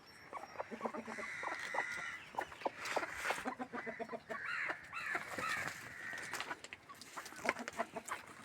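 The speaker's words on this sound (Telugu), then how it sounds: "ఫ్రెండ్స్ కోళ్ళు వస్తున్నాయి చూడండి" Chickens at a poultry yard cluck and squawk in a busy, irregular chorus of short close calls, with a rooster-like crow in the mix and dogs present nearby.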